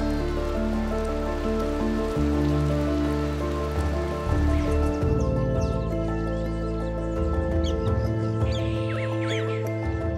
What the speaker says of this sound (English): They know the rain is entirely good news.